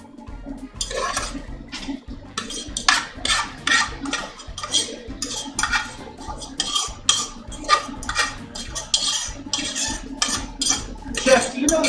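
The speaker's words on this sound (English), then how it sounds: "Once you fluff it up, you're going to transfer the couscous into a bowl." Fluffed couscous is scraped and transferred into a bowl, giving steady clinking of utensils against metal and dishware in repeated bursts, fairly close, with little talk.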